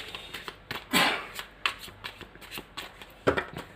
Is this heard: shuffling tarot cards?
yes